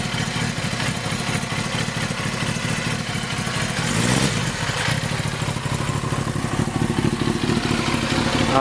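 A 2003–2009 Yamaha R6 sport motorcycle fitted with a full titanium exhaust idles steadily to warm up, a continuous close, loud rumbling drone with a faint mechanical clatter and no talking.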